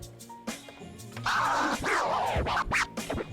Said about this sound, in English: The baby scratch is probably the most common scratch and is easy to do